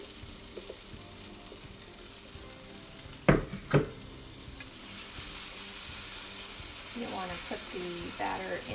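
Plantain pancake batter fries in coconut oil in a preheated pan, a faint steady sizzle with two sharp clatters of a utensil midway, followed by quiet talking.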